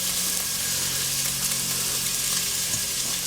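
Peppers and onions frying in oil in a pot over medium heat, a steady, close sizzle with crackle that holds without a break and no talk.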